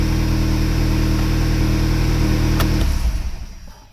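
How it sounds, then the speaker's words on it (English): Volkswagen Golf 2L GTI with a check engine light and lean fault idling roughly, a steady low engine drone with uneven pulsing that cuts off near the end, no talking. "Engine little bit rough idling."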